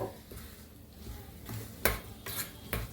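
Fenugreek greens being mixed with salt in a pan, with soft scraping and rubbing and a few sharp utensil knocks against the pan near the end, close and fairly quiet.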